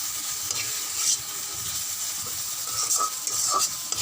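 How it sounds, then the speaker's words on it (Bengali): Spices fry in hot oil in a pan, giving a dense, steady hiss with occasional scraping and ratcheting utensil strokes, close up and without voices. "মশলাটা ভালো করে ভেজে নেব।"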